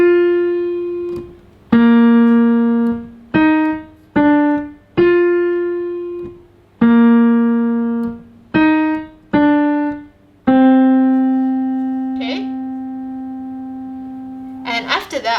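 A title theme is picked out slowly on a piano, about a dozen clear single notes in an uneven rhythm, close and distinct, with brief faint noises near the end.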